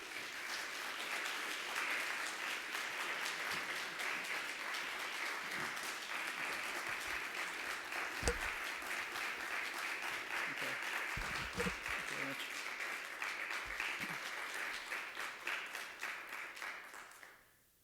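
A lecture hall audience gives sustained, even applause welcoming a human rights lecturer, dense clapping that holds steady for a long stretch before tapering off at the end.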